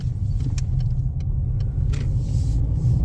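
A 2020-or-later Peugeot 2008 drives along a road, heard from inside as a steady low rumble of engine and tyres with faint rattles over the top, constant and unbroken.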